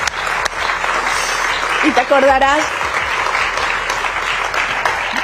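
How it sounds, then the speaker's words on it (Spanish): A large crowd applauds steadily and loudly throughout, a dense continuous wash of clapping while someone speaks over it. "Voy a parar este discurso y darles a ellos un aplauso"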